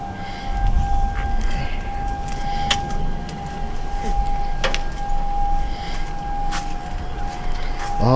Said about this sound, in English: we got the 12 o'clock siren today, noon